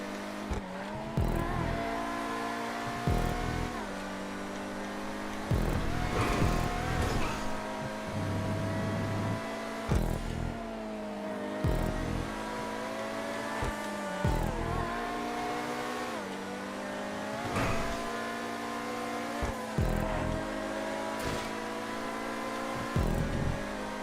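A race car engine in GTA 5 laps a track, revving steadily with repeated rises and drops as it shifts gears and takes corners, close and continuous with no talking.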